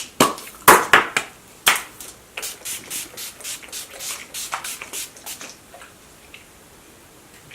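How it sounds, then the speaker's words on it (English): Urban Decay All Nighter setting spray is misted onto a face in a series of quick pump sprays, a few loud sharp bursts first, then a faster run of softer, close-up spritzes that fade away. "I'm going to set my face with the All Nighter setting spray from Urban Decay"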